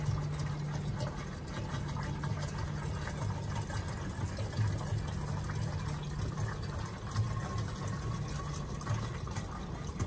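Water pours steadily into a container, about 2 gallons, a continuous rushing fill with a low mechanical hum underneath, unbroken for the whole stretch.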